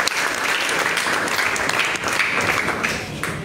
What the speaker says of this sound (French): Acclame pour Jésus-Christ aussi.